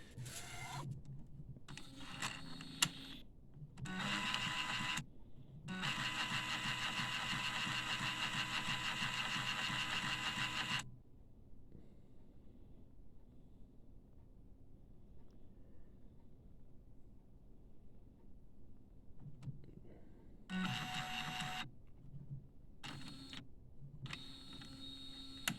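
DTG 1400/1390 printer pushing ink through its print head: a steady mechanical buzzing whir that runs loud for several seconds, stops, then returns in short bursts over a faint background hum.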